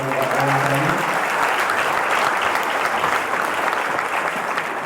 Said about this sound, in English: So I want to give a round of applause, please